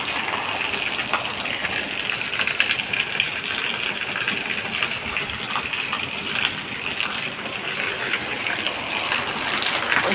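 Heavy rainwater gushes steadily off a roof where water has pooled and a clogged spout overflows, a dense, continuous splashing roar that stays close and loud throughout with no pause.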